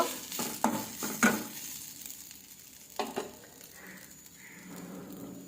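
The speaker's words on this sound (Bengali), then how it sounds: "আমার 5 মিনিট একটু ভেজে নেব চিড়েটা ঘিয়ে দিয়ে" Flattened rice (chira) fries in ghee with a quiet, steady sizzle, and a few spoon-against-pan stirring knocks come early on.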